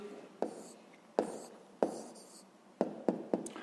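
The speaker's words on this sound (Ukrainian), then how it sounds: "Ну що ж, записуємо тоді відповідь." A pen writes an answer on paper in a fifth-grade math exercise. Soft scratching runs throughout, broken by several sharp taps as the pen meets the page, close and quiet.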